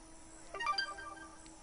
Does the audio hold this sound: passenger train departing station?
no